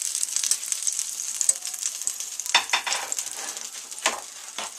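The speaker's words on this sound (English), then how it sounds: "browning the aromatics to produce more flavor" Aromatic vegetables browning in a pot roast pan, a bright steady sizzle punctuated by a few brief stirring scrapes, close and moderately loud, with no voices.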